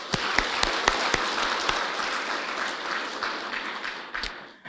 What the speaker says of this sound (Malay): mari sama-sama kita berikan tepukan yang paling gemuruh